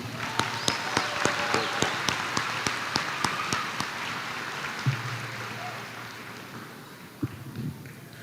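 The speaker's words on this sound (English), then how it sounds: "Let's give both of our students a round of applause." Graduation audience at a high school ceremony claps, a loose spread of many hands with a few sharp distinct claps at first, thinning and fading out over several seconds, with a low hum and brief voices near the end.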